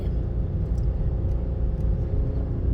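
A small car driven by a learner on a quiet Thai road gives a steady low engine rumble and road hum, close and continuous, with no talking.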